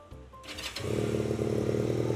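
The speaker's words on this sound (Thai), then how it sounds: "เรามาฟังเสียงท่อเดิมกันหน่อยดีกว่านะครับ" A GPX Legend 250 Twin Brighton motorcycle from 2021/22 with its stock exhaust: a short starter whir, then the engine catches and settles into a steady, even idle, close by.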